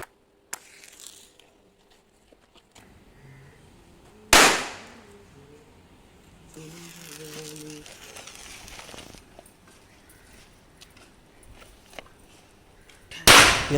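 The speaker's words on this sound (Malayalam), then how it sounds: "അപ്പോൾ ഈ പൊട്ടിച്ചാൽ എനിക്കിഷ്ടമായത് ഈ തീപ്പെട്ടി പടക്കമാണ്. നല്ല ഒച്ചയും ബഹളമൊക്കെ ഉണ്ട്." Matchbox firecrackers burst with sharp, loud bangs, one early and another at the end, with a faint pop in between, separated by quieter stretches where a voice talks.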